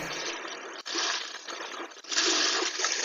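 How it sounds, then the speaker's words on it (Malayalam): Cartoon sea waves roll in one after another under a blowing wind, heard as a soft, steady rushing wash with a couple of brief dips and swells. No voices. "അടിച്ചു വീശുന്ന കാറ്റിൽ തിരമാല ഒന്നിന് പിറകെ ഒന്നായി വരുന്നത്"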